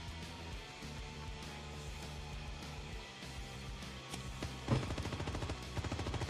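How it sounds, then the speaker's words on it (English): Gunfire in the space game Star Citizen during a mining session, a faint background hum and then a quick rattling burst of rapid automatic shots near the end, fairly distant and quiet. "Who the fuck is shooting at my rock?"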